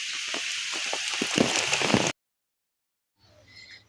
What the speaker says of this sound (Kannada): ಮಳೆ ಬರತ್ತಿ ಸೈಡ್ ನಿಂತೇವಿ